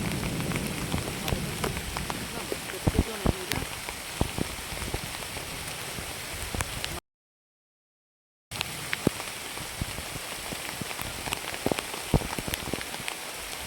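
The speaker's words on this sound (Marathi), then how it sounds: "आता पाऊस आला आहे म्हणून आता मी घरात जातो आहे" Steady rain patters on a surface with scattered sharp drips, a continuous wash of sound broken by a brief silent gap midway.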